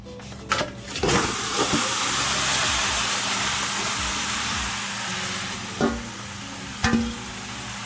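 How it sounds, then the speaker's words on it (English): A loud burst of sizzling as marinated oxtail hits a hot pot, settling into a steady frying hiss with a few clanks of cookware, no voices. "The oxtail is marinated, so I'm just gonna pour it in the pot."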